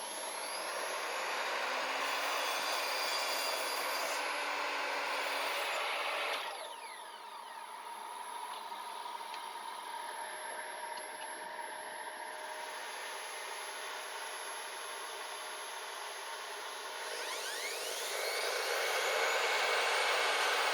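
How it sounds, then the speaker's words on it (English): A power saw cuts timber rails for a wooden BBQ server, a loud steady whine and roar that drops briefly in pitch partway through as the blade works the wood, then swells again near the end. "So we're going to start by cutting the top and bottom front rails."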